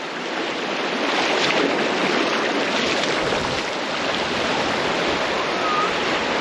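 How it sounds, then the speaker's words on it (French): A river current flows through a canyon in Turkey, giving a constant, broad rushing wash close by. It stays steady and fairly loud for the whole stretch, with no clear voices over it. "Il n'y a pas masse d'eau, mais ce courant."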